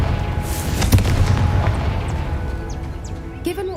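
A Confringo fire spell explodes in Hogwarts Legacy, giving a deep booming blast that rumbles on and fades, with crackling debris and a few short whooshing effects near the end.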